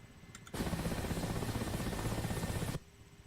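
Mi-8 helicopter in the video game Whirlybirds hovering and setting down: a steady, dense rotor-and-turbine drone that cuts in abruptly and drops away after about two seconds, loud and continuous with no talk.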